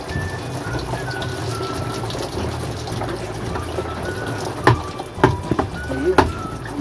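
Water pouring into a Brikk washing machine during a gearbox change, a steady rushing fill with gurgling, plus a few knocks and clatters near the end.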